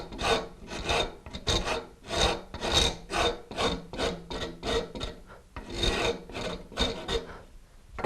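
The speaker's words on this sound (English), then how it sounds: "Rasp again. Get rid of all those bandsaw marks." A rasp files the wood of a carved ball and claw foot in rapid, rhythmic strokes, each a loud, close, gritty scrape, about two per second with short gaps between.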